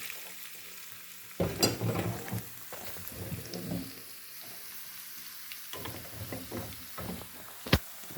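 Sizzling tempering with asafoetida tipped into an aubergine milk curry, giving a burst of frying crackle and clatter that fades into a low hiss, with a few knocks and one sharp clink near the end.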